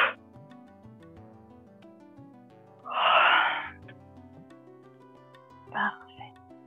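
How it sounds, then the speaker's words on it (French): During a guided relaxation session, a person gives one long, breathy yawn, followed later by a shorter exhale, both faint over soft, sustained background music. "Baillez un grand coup."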